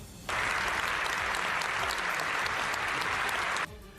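Members of the Canadian Parliament applaud Ukrainian President Zelensky in the chamber, a dense, steady wall of clapping that starts abruptly and holds evenly for about three seconds before cutting off.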